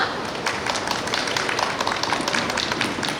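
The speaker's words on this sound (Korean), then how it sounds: "큰 박수로 모셔보도록 하겠습니다" Dense, steady applause from a crowd at a street busking performance of Korean traditional music, many hands clapping continuously at close range with no pauses.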